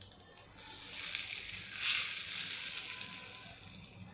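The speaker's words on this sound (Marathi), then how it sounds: "ही फोडणी आता मी या उंड्यांवर ओतते." Hot tempering poured over steamed Karnataka-style dal dumplings (nuchinunde) sets off a soft hiss. It swells into a steady sizzle and then eases slightly, with a few light taps at the start.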